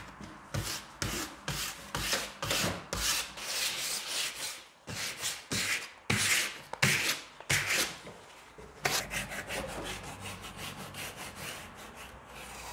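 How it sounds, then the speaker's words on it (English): Sandpaper rubs back and forth over a painted surface to distress it, a long series of rhythmic scratchy strokes, close and fairly quiet, with a brief pause midway and then faster, shorter passes. "I'm going to distress it a little bit with some sandpaper."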